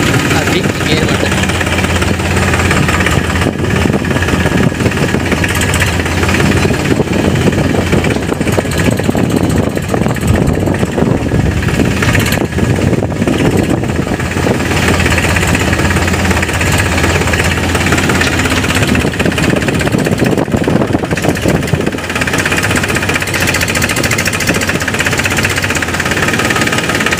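A village rice mill runs continuously while paddy is milled into rice, its engine-driven machinery giving a loud, dense, steady clatter and rumble close by, with a voice talking intermittently over it.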